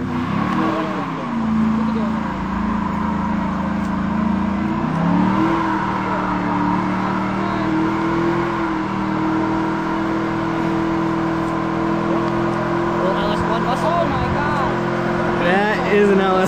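A car engine revs hard and steadily during a burnout, a loud sustained roar with pitch swells and wavering revs, while people talk over it throughout.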